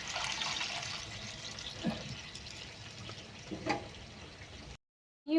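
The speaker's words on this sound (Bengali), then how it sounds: "জল দিয়ে দেবো।" Water pours into a cooking pot of fish curry in a steady, fairly quiet splashing stream for several seconds, then stops abruptly; no talking.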